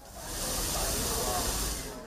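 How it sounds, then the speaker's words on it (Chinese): Pork rack chops pan-fry to order at a busy Hong Kong street-food stall, giving off a loud, steady, close hiss of sizzling fat that runs unbroken for about two seconds. "即叫即煎嘅豬鞍架"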